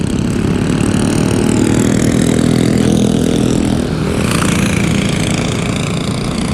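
Racing kart engines run steadily at the Orlando Kart Center during a pro league race, a loud continuous drone with a brief dip in intensity near the end.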